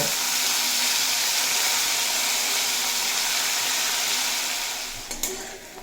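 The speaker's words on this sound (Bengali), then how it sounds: "ফুলকপিও খুব ভালোভাবে ভেজে নেওয়া হয়ে গেছে" Cauliflower frying in oil with turmeric and salt in a pan, a steady close sizzle that holds, then thins near the end, with a few soft clinks.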